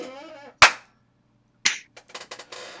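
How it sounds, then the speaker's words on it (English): A single sharp hand clap rings out clearly in a quiet podcast room, followed by a second sharp clap a second later and some soft handling knocks, after a person briefly speaks. "could you clap your hands as well?"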